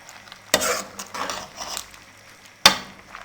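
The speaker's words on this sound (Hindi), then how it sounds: "अब इसको हम अच्छे से मिक्स कर लेंगे।" Boneless chicken and boiled chana dal are stirred together in a pot for a Chicken Shami Kabab, with soft scraping and a couple of sharp clanks of the spoon against the pot rim.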